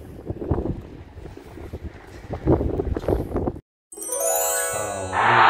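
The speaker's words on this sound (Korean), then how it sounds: "지금 현재 바람도 많이 불고 있고 하늘은 잔뜩 흐려서 바람이 강하게 불고 있습니다" Strong wind gusts at a seawall on a cloudy, rainy day, rushing and buffeting the microphone close up, followed by a sudden bright tinkling, ringing passage toward the end.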